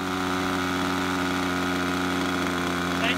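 An engine on an RC model airplane runs steadily at idle, a loud, continuous buzzing drone that stays close and even throughout.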